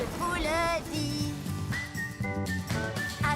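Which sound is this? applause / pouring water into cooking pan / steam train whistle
steam train whistle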